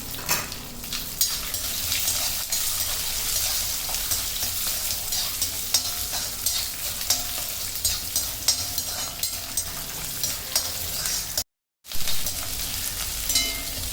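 Continuous sizzling of small shallots sautéing in a pan, a close, even hiss with faint stirring scrapes and a brief dropout near the end.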